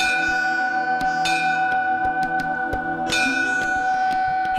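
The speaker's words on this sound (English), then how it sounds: "Hindus ring a bell to announce their presence." A metal bell in a Hindu temple rings with sustained, shimmering tones, struck several times in an uneven rhythm so each new strike layers over the fading hum of the last, close and fairly loud with no speech.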